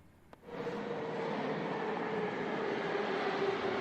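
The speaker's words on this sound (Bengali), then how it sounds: "শুধু শোনা যাচ্ছে মেট্রোর গতিবেগ" A brief click, then a metro train's steady roaring hum builds and holds, loud and continuous like riding inside a moving carriage.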